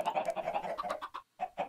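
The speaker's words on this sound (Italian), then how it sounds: "Senti i polli." Chickens cluck in rapid, uneven bursts in the video game Minecraft, close and fairly quiet, with a brief pause before a few more clucks.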